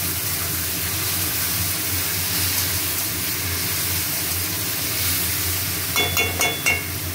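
Ginger, cumin, salt, turmeric and dried chili frying in hot oil, a steady, bright sizzle and hiss throughout, with a few light clinks of a utensil near the end.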